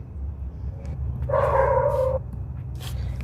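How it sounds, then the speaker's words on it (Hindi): Dog barking somewhere outdoors, a faint, distant, drawn-out bark or howl lasting under a second over a low steady hum. "अरे यार ये कुत्ते"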